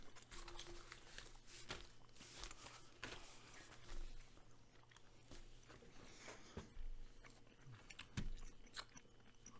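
Gum is chewed close to the microphone in quiet, irregular wet smacks and soft crunches over a low background hum, with no speech.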